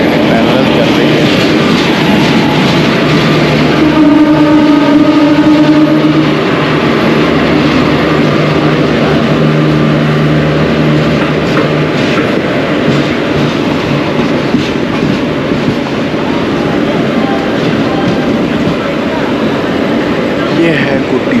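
A steady, loud roar of the Vishakha Express running out of a junction at night, with rolling wheel clatter and a brief tonal hum early on, continuing throughout.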